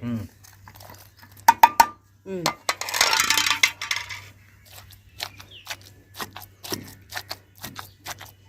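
Onions are pounded with salt for green chilli chutney, giving sharp clacking knocks in irregular bursts with a short crunchy scrape, heard close, and a voice talks at times.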